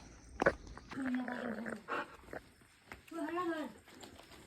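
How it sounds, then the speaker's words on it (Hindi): A dog makes short, close vocal bursts with a drawn-out whining quality, separated by brief pauses, while people talk nearby. "डॉगी ये मेरे को प्रिया समझ रहा है सही।"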